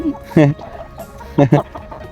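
Chickens cluck at a rural home in northern Laos, a few short, close, loud clucks in two bursts with a human voice mixed in.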